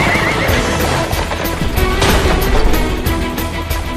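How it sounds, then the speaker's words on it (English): Horses pulling a horse-drawn carriage neigh loudly and close, with hoof clatter and rough ambient noise under them, in an anime scene. "This is a horse-drawn carriage."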